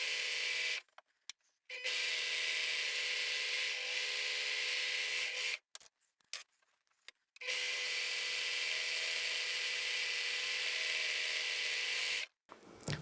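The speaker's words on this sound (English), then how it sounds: "So I'll overlock the top edge here" An overlocker serges the top edge of a fabric beanie cap in steady whirring runs, with two short pauses where the machine stops before starting again; no talking.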